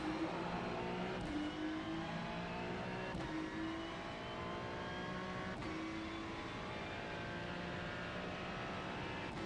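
Ferrari 296 GT3 in iRacing accelerating at Spa toward Eau Rouge, engine note climbing through the gears with brief shift breaks, a steady loud simulated race-car roar without voices.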